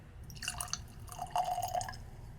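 A 100-proof, five-year-old bourbon is poured into a glass, making soft splashing, trickling and dripping sounds close up in a quiet room.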